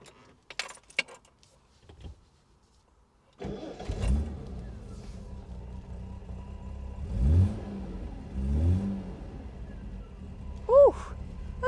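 Austin Princess 2 with a six-cylinder 2.2 engine: keys jangle, then the starter cranks and the engine catches, settling into a steady idle with a couple of revs, heard up close.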